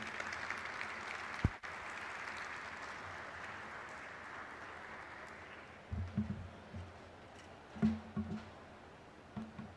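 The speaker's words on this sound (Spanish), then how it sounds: "Le damos un aplauso a don Fernando Txomalí." A conference audience gives a speaker taking the stage a broad wash of clapping at moderate distance. It fades out over several seconds, then footsteps and faint knocks follow.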